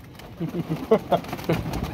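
Pigeons coo in a loft with a few soft, throaty calls in quick succession, close and fairly loud against faint background noise.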